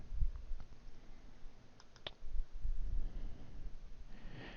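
Mouse clicks on a download button on a Windows 10 computer: a few faint, sharp clicks spaced apart over quiet room noise, with soft breathing.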